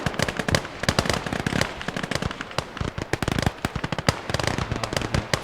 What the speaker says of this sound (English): the Molotov launcher is going crazy. It's firing everywhere